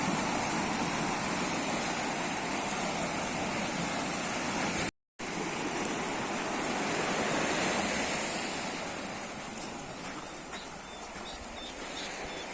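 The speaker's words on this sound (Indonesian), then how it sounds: "posisi air mukul ombaknya sampai di dinding tebing itu" Sea waves at high tide surge and wash against a coastal cliff wall in Indonesia. The roar of surf is steady and full, with wind noise on the microphone and a brief dropout midway.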